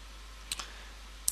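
Two sharp, faint computer mouse clicks on a Yes button, one early and one near the end, close and isolated over a quiet low hum.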